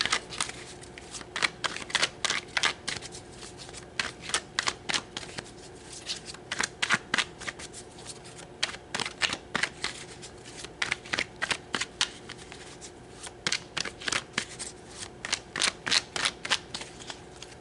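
Tarot cards being shuffled in repeated crisp riffling bursts, close and steady, with brief pauses between runs and no one speaking.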